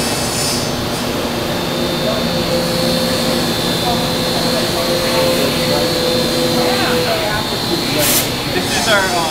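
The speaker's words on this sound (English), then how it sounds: "This is our newest machine called a CNC mill. And what it does is it cuts out our neck for us." A CNC mill in a ukulele factory cuts out necks with a loud, steady, broadband whirring and hissing roar that runs continuously throughout, with shop noise around it.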